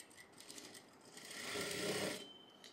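A tailoring sewing machine stitches blouse piping and lining together, a close, steady whirring hum that builds to a louder run near the middle before easing off, with no one talking.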